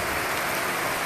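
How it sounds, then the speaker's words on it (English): Steady rain falls outdoors in Hargeysa, a dense, even hiss of drops on surfaces that holds constant and close throughout, with no voices. "look how beautiful the rain is"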